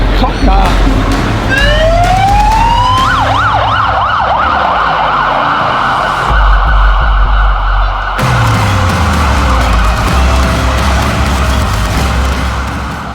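A loud police car siren wails and yelps up close in Sydney, rising and cycling through its tones, with a vehicle engine rumbling underneath.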